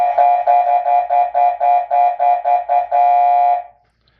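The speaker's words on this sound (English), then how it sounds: "and I'm going to touch the air horn" A Powercall X71 concealed emergency siren sounds its air horn tone, a loud, bright electronic blare pulsing in about a dozen quick bursts, then a final longer held note that cuts off.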